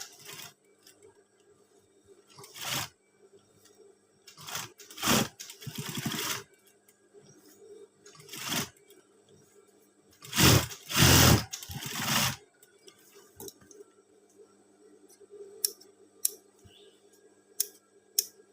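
A sewing machine stitches the pocket of a Pramuka scout uniform in several short whirring bursts separated by pauses filled with faint ticks and handling clicks.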